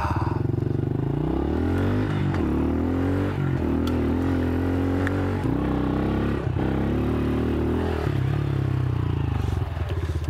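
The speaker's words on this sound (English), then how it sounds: "the best thing about this bike is it's got electric start" An electric-start dirt bike idles and revs out in the local woods, its engine note climbing and falling through several throttle blips, loud and close with no voices.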